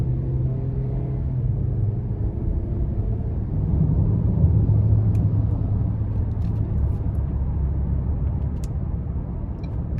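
A 2024 Ford Edge SEL with a 2.0-litre turbo four-cylinder and AWD accelerating, heard from inside as a steady low engine and road rumble that swells slightly midway; no speech.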